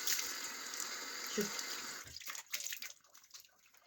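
Water from a tap runs steadily while makeup is washed off a face, a continuous close splashing stream that breaks into softer, irregular splashes toward the end.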